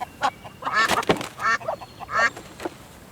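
A duck quacks in a string of loud, nasal calls, close by and overlapping, with a steady background hiss and no talking.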